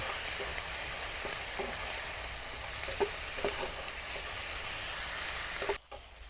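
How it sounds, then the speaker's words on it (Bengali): Cumin paste frying in a pan for village-style chicken biryani, a steady close sizzle with occasional soft stirring clicks, continuous and fairly loud with no talking. "জিরা মশলা বাটা দুই চা চামচ পরিমাণ এবার ভালো মতো করে কষিয়ে নেব"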